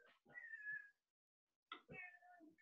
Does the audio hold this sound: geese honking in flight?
no